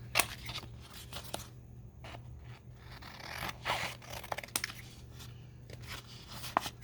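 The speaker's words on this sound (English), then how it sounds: "I'm going to cut this. Into like 4 journal cards" Scissors snipping a painted paper background into journal cards, a series of quiet, crisp cutting strokes and paper rustles at close range, spaced irregularly over a soft steady hum.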